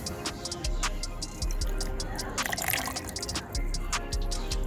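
Water sloshes and drips in a cup as a paper towel is dipped in to moisten it for rooting a plant cutting, with soft close splashing and scattered ticking drips, no talk.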